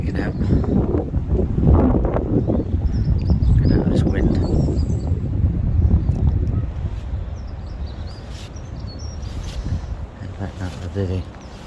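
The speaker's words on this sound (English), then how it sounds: "it's sort of picking up a little bit more around here as I sort of come into the wind" Wind gusts across a boggy lakeside on a carp fishing trip, a loud, continuous low rumble buffeting the microphone that eases slightly toward the end.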